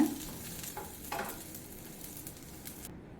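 Onions fry in a kadai with a steady soft sizzle, and a few stirring scrapes come near the start. The cooking noise runs alone without talk and cuts off abruptly just before the end.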